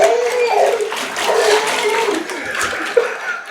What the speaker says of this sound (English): you just drain that tub for Dad